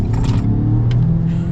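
A 2023 Ford Maverick Tremor pickup accelerates hard, its engine a loud, close, low rumbling drone with a brief rising whir and some rattling mechanical noise on top, no voices.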